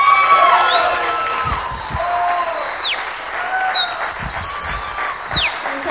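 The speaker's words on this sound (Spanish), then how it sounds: "vamos a presentar, señoras y señores, con un fuerte aplauso a nuestro decimista estrella" A stand-up comedy club audience cheers and claps for the next act, with long shrill whistles piercing the crowd noise and a burst of rhythmic clapping toward the end.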